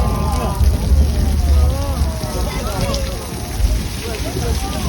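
Artificial movie rain pouring from high-mounted sprinklers onto a building on a Universal Studios Hollywood studio tour, a steady close splashing wash with a low rumble underneath and scattered whistling or voices faintly on top.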